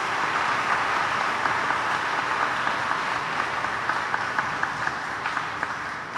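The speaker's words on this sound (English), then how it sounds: "So I think we should give Father Khan and our parish priest a lovely round of applause" A church congregation applauds a parish priest at a Divine Mercy Sunday Mass with First Holy Communion, steady sustained clapping filling the space for several seconds with no talk over it.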